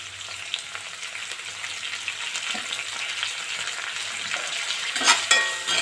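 Curry leaves and mint leaves frying in oil in a pan while making chicken fry, a steady close crackling sizzle with occasional stirring scrapes and a brief louder flare near the end.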